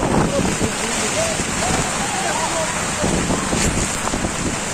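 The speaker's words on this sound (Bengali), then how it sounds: "কক্সবাজারে পুরো বৃষ্টি, সমুদ্রের অবস্থা খুব ভয়াবহ।" Heavy rain pours onto Cox's Bazar beach while the rough sea surges, making a dense, constant roar of rain, wind and surf that stays loud and unbroken throughout, with faint voices now and then.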